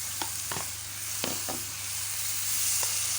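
Fava beans sauté with cumin in a hot pan, a continuous close sizzle broken by several sharp spoon scrapes and stirring knocks, with no voices.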